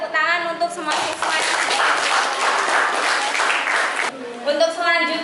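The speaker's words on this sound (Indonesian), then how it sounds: "Ayo tepuk tangan untuk semua siswa." Students in an Indonesian classroom break into a burst of group clapping, dense and steady at close range for a few seconds, with a teacher's voice heard just before and after.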